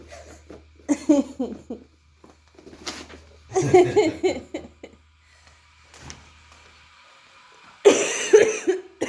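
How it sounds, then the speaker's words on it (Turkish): Several dry, hacking coughs come in short bursts separated by quiet gaps, close to the listener, with a little laughter-like sound mixed in. "bir kuru öksürük kaldı hastalığımdan"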